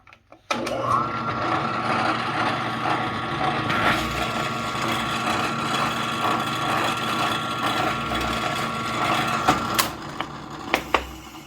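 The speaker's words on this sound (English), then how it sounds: "I'm just going to drill out these 3 holes" A drill press whirs steadily as it bores into wood, a continuous mechanical grind ending with a few clunks as it stops.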